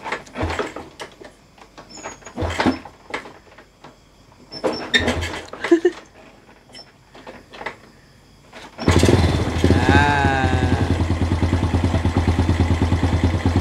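A Honda EX5 motorcycle fitted with a racing clutch starts after some clattering and handling noises, then settles into a steady, loud idle close by.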